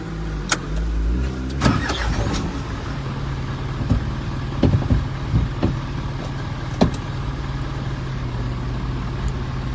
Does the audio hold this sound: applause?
no